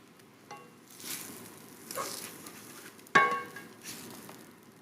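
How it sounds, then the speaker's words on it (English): An egg fries in a pan of chorizo hash with a soft, faint sizzle and crackle, punctuated by a sharper tap or pop partway through, and no voices. "Let's pop one egg on there."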